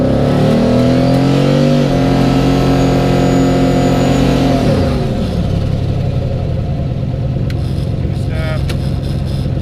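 A $6000 car on a drag pass launches hard in first gear, its engine roaring loudly as it climbs in pitch, then shifting down into a lower, rougher drone, very close and continuous throughout.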